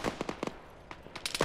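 ArmA rifle fire in a ShackTac squad game: sharp, close shots, first in a quick cluster, then a pause, then another burst of rapid rounds.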